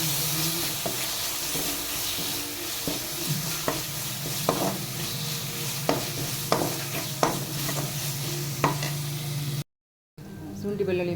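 Ginger garlic paste sizzles and fries steadily in a pan for rajma curry, with scattered clinks of a spoon stirring against the metal. There is a short gap of silence near the end, then the frying resumes.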